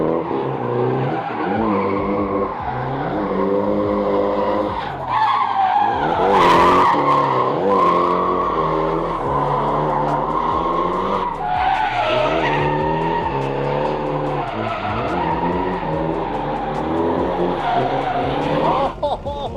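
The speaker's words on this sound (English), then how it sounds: "That's just an Australian car drifting in Japan." An Australian car drifting in Japan, tires squealing in long wavering screeches as the engine revs rise and fall through repeated slides, loud and close, with occasional voices underneath.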